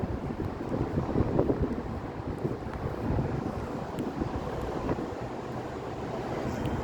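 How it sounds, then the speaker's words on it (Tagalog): Steady gusty wind buffets the microphone, a dense low rumble with rushing noise throughout, no voices. "Ang sarap ng hangin."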